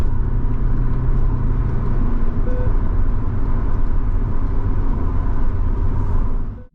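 A Vauxhall Astra CDX engine pulls hard under kickdown, a loud, steady rumbling roar heard from inside the car that holds its level before cutting off abruptly at the end.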